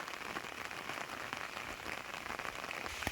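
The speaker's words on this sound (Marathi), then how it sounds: "पाऊस पडतोय" Steady monsoon rain in the Konkan countryside patters on a surface, a dense hiss of drops with occasional louder taps, no voices.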